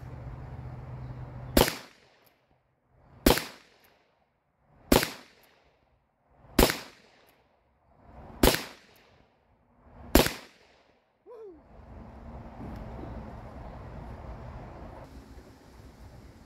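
Six loud, sharp firearm shots fired from a revolver with factory jacketed bullets, evenly spaced about every one and a half seconds, close and alone, followed by a faint metallic click and low rustling handling noise.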